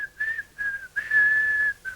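A person whistles a wavering, clear tone in several short phrases, with one longer sustained note in the middle, close and alone without any talking.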